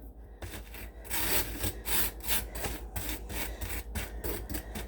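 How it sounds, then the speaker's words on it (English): Butter spread on a sandwich, close-up rhythmic scraping strokes of a knife across bread, several quick rough swipes in a row with brief pauses, no talk. "I'm just going to give my sandwich a tiny swipe"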